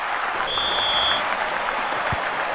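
Stadium crowd noise from the 1999 PS1 football game ISS Pro Evolution, a steady broad roar of cheering and applause filling the clip at fairly loud level, with a brief high electronic tone near the start.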